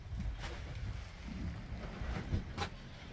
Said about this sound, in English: Wind's up.